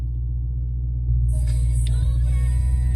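A Dodge Challenger Widebody Scat Pack on its factory exhaust rumbles at cold start, a deep steady low idle that swells louder after a moment, close by with no talking.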